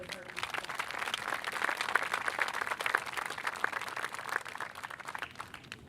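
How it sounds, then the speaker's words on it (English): A graduation-ceremony hall fills with steady, dense applause for the valedictorian, a continuous crackling wash of many hands clapping at a moderate distance, with faint voices mixed in beneath it. "I want to give her a round of applause"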